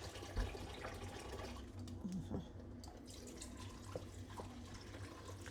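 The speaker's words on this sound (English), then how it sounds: "Just wash out the stuff at the bottom and fill it with water again." Tap water runs into a bowl in a kitchen sink, a quiet steady rushing stream with small drips and splashes, heard alone at a low level.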